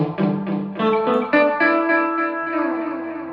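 Heavily processed electric guitar notes through a BOSS RE-2 Space Echo, tape head 2 with reverb, ring out with repeating echoes and a wash of reverb, each phrase trailing into the next.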